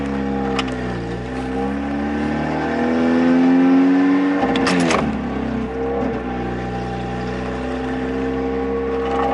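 A Mitsubishi Eclipse engine runs at a high idle with a steady, loud drone, swelling through a sustained rev before settling back to a raised idle, close and alone.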